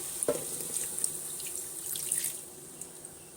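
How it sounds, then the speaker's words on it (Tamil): Water runs steadily, splashing and trickling into a pan of cooking greens, with a few brief splashes and no voices. "இப்போ நம்ம தேவையான அளவு தண்ணி ஊற்றி மூடி வச்சிடலாம்"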